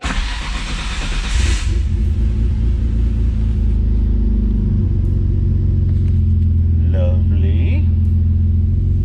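RB26 car engine starts up in a garage and settles into a steady, loud low rumbling idle, with someone speaking briefly over it.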